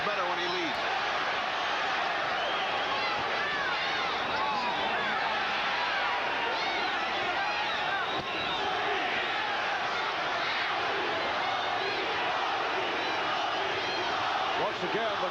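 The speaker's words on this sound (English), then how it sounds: "the crowd chanting for Tony Lopez, who landed the left hook" A boxing arena crowd at an IBF junior lightweight title fight chants for Tony Lopez, a dense, steady roar of many voices filling the space without pause throughout.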